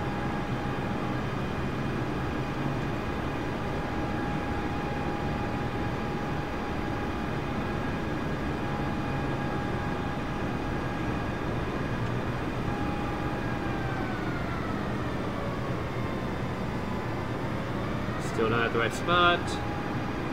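A simulated airliner engine in Microsoft Flight Simulator hums in a steady drone while taxiing to the gate at Washington DCA. Its tone slides and shifts partway through, and brief clicks follow near the end.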